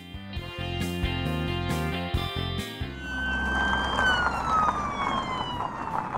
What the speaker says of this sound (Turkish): Evet, bu bir polis arabası.